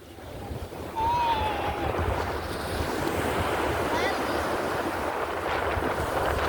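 Sea waves wash steadily onto a beach, a continuous broad surf roar with wind buffeting the microphone, and a brief voice or whistle near the start.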